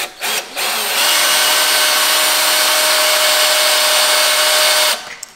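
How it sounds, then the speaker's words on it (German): A power drill whirs steadily at high speed for several seconds, loud and close, with brief starts before and a stop at the end. "ich werde jetzt erstmal bohren und versuchen, die Spannung da wegzunehmen"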